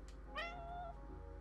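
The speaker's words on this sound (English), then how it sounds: "Oh, I want a black cat." A single short, faint meow from a cat in the video game Calico rises and falls over quiet background game music.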